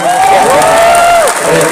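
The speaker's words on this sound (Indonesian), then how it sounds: "tepuk tangan sekali lagi buat Mas Gibran" Crowd at a political victory rally applauds for Gibran, loud, close clapping with a rising and falling tonal cry or whistle carried over the din.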